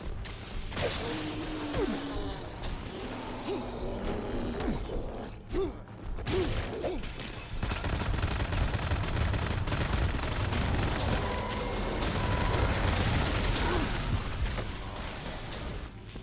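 A heavy artillery weapon firing repeatedly in the retro shooter Wrath: Aeon of Ruin, dense booming shots and mechanical clatter in an arena fight, loud and continuous with creature noises mixed in.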